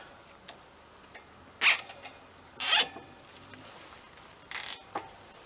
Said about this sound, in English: So I'm just going to zip tie it here.